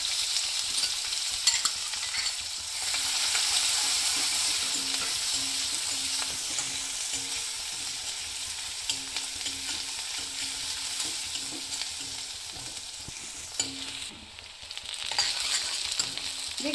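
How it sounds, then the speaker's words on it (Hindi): Chopped onion with cumin seeds frying in a pan for a mushroom Manchurian curry, a steady soft sizzle with intermittent scraping and stirring, fairly quiet and close, with no talking. "देखिए प्याज इतनी भूननी है मुझको"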